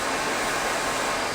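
A hair dryer with a red nozzle blows at the salon during a bob haircut, giving a steady, even whooshing hiss for a moment with no talking.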